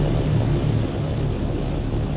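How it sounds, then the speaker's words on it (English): An ornithopter chopper in the game Dune flies with a loud, steady, close engine drone and a rumbling low throb, with no break over the whole stretch. "as you can see, my chopper needs to be repaired quite often"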